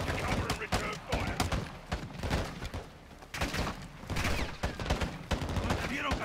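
Rapid bursts of gunfire from Call of Duty Modern Warfare 2, a campaign firefight in the Cartel Protection mission on Veteran, crackle nearly nonstop with sharp repeated shots, dense and close, with shouted voices mixed in.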